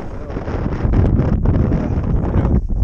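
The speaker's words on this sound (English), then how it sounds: "the wind started blowing, and so a little bit of weather moved in" Wind gusting outdoors at a shelter on the Appalachian Trail, a steady loud rumble with buffeting on the microphone that lasts the whole stretch.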